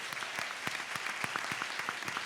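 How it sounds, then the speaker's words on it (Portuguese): Audience applause at a university inauguration ceremony, a soft, distant wash of clapping with a few sharper nearby claps standing out. "uma salva de palmas, Alessandro."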